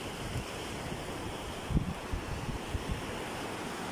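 Sea water surges onto a shore as waves wash in, a steady broad rush with a few low thumps, heavy wind noise on the microphone and no voices.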